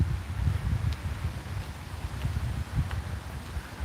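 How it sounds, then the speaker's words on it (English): Wind blowing outdoors makes a steady, rumbling rush of gusty noise against the microphone, with faint rustling mixed in and no pauses. "The wind is picking up again"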